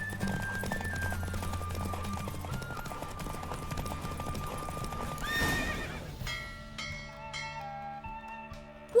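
A horse gallops with steady clip-clop hoofbeats in a race in the video game Witcher 3, with a loud neigh, then bell-like chimes as the race ends.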